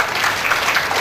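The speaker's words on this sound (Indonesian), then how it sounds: "Mau Bapak Ibu kasih tepuk tangan untuk kami?" An audience applauds at a master's graduation ceremony at a theological college in Batam. The clapping is loud, close and dense, with no break across the short burst.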